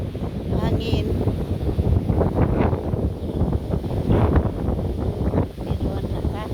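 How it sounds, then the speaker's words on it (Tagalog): Wind gusting through a small city park, a steady rumbling buffet against the microphone with rising and falling strength and a voice speaking softly underneath. "Nagpapahangin, ang sarap ng hangin."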